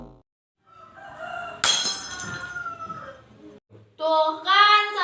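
Glass breaking in a bedroom, a sudden bright shatter followed by tinkling debris, with short vocal cries before and after.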